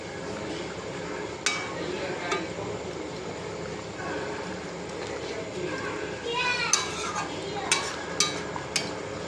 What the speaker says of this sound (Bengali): এবার আমি একে একে মাছগুলো দিয়ে দেব